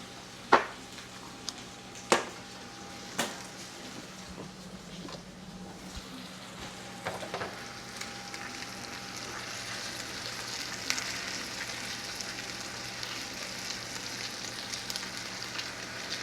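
A red wine reduction simmers in a hot pan with the heat turned up, giving a steady close sizzle and hiss after a few sharp clicks and clatters early on.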